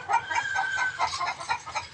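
A chicken clucks close by on a farm, giving a quick run of short rhythmic clucks at moderate loudness, with no other voices.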